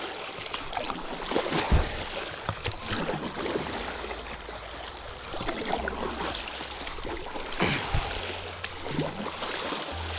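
Water sloshes and trickles around a Nixy Newport paddle board as the paddle dips through the surface on a lake, with several distinct splashy strokes spaced a few seconds apart over a steady watery wash.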